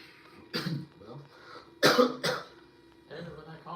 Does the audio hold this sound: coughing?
yes